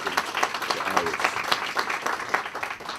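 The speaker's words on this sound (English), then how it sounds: "So let's give a round of applause and appreciation to Iris." Audience applause at a ribbon-cutting ceremony, honoring Iris: dense, steady clapping from a room of people that fills the moment without a break.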